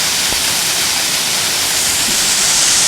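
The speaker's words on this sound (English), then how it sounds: "That's the main fall there." The main fall of Benlister waterfall roars in a dense, constant wash of white water, heard from right beside it, loud and unbroken with no voices.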